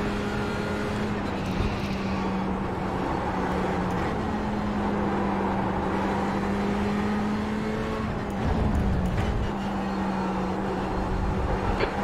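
Race car lapping Interlagos in the iRacing game, a sustained engine drone with a steady pitch that shifts as the car brakes and accelerates, loud and continuous with no talk.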